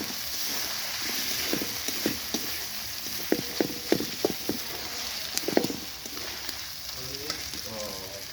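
Ground spices of ginger, garlic, cumin and dried chilli sizzle and crackle in hot oil, with a run of sharp spattering pops near the middle, close and fairly loud.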